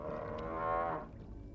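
A single cow lets out one drawn-out, resonant moo, close and clear against a quiet background, fading after about a second.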